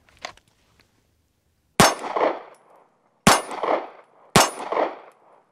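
Three loud, sharp pistol shots ring out against a steel target during a failure-to-stop drill, each shot followed by a metallic clang that rings off. A faint tap comes first, then the shots arrive about a second and a half apart.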